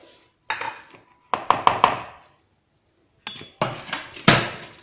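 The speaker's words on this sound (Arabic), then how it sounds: "نبدا نخلط المقادير مع بعض" Whisking whole egg and yolks with other ingredients in a bowl for a caramel Nestlé-filled sweet, giving clustered bursts of clinking, knocking strokes against the bowl in two separate spells with a pause between.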